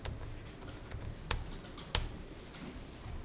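Quiet clicking of keys as an account number is typed on a computer keyboard, a soft run of taps with two sharper key strikes standing out, no voices.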